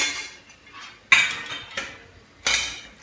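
Fried raw banana pieces for banana manchurian are lifted from hot oil with a perforated ladle, giving three sharp metallic clinks against the pan at close range with fading sizzle between them; nobody speaks.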